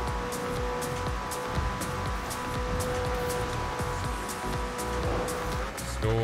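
A car races at top speed in Forza Horizon 4, its engine droning as a steady high whine with sharp periodic ticks and tire noise, loud and continuous.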